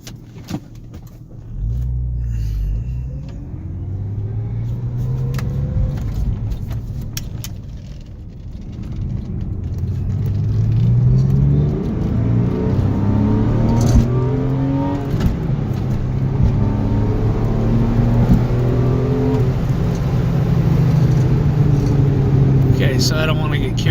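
A car engine revs and climbs through several gear changes, the pitch rising and dropping with each shift, steady road rumble underneath.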